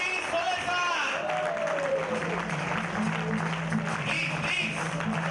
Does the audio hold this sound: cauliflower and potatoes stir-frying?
no